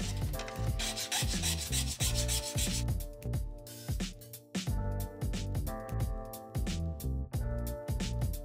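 Rhythmic back-and-forth rasping of a file and sandpaper on the plastic case of a scrap VanMoof e-bike part, steady repeated strokes close to the microphone with no talk.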